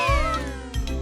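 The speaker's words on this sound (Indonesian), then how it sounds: "Lihat, aku nemu kucing." A cat gives two short meows close by, the first louder and the second following after a brief pause, with no talking.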